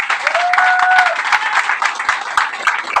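Enthusiastic audience applause at a motivational training session in a hall, dense steady clapping filling the whole stretch with a brief tonal squeal partway through.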